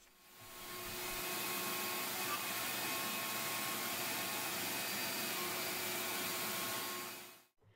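A shop vacuum pulling dust from a Shapeoko 3 XXL CNC router as it cuts a vacuum board, a steady broadband whoosh holding at even level for several seconds before cutting off abruptly.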